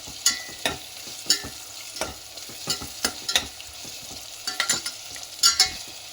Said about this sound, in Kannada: ಆಮೇಲೆ ಈರುಳ್ಳಿಯನ್ನು ಹಾಕ್ತೀನಿ. ಸ್ವಲ್ಪ ಬಾಡಿಸ್ತೀನಿ, ಸ್ವಲ್ಪ ಕೆಂಪಾಗೋರಿಗೆ.